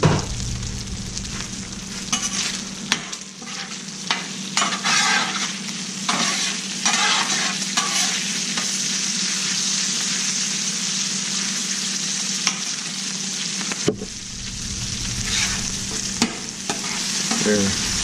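Chorizo fries on a Blackstone griddle for breakfast tacos, a loud steady sizzle broken by repeated scraping strokes of a spatula stirring and turning the meat, with no talk over it.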